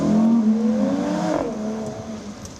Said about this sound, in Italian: È il rombo dei motori con i poster dei momenti felici vissuti con l'amico a salutare Lorenzo Cristea.